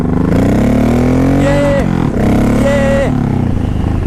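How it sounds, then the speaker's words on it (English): A Honda VTX 1800 motorcycle revs hard as the throttle is cracked, a loud, close, deep engine roar climbing in pitch twice with a brief dip between, alone without talk. "If I crack that throttle up here, this back end's gonna cut loose."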